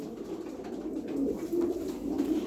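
Low, continuous rolling coos come from a Hünkari pigeon, steady and close, with slight swells in loudness throughout and no talking.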